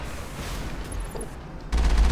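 Rapid rockets and explosions crackle and boom in a Mass Effect battle, a dense continuous barrage that swells into a louder, heavier blast near the end.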